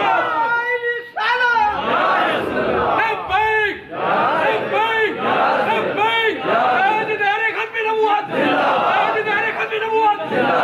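A large crowd at an Eid Milad un Nabi religious gathering chants slogans in loud rhythmic call-and-response bursts, many voices roaring together in repeated waves with hardly a pause.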